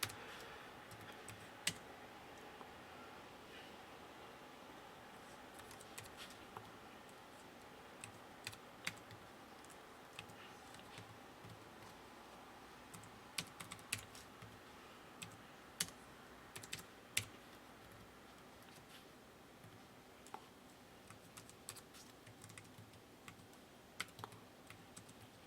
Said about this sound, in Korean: 타이핑 입력해 주시고요